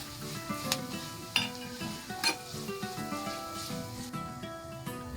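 Ginger and garlic sizzle steadily in a pan for an Onam mango dish as turmeric and chilli powder are stirred in, with a spoon scraping and clinking against the metal at irregular moments.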